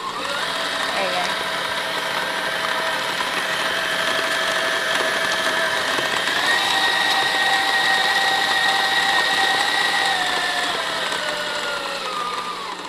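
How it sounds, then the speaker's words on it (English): An electric mixer beats cheesecake batter in a kitchen, giving a steady, moderately loud motor whine that shifts pitch slightly as it runs, with people talking over it. "So cut this back on and let it mix for about 3 to 4 minutes."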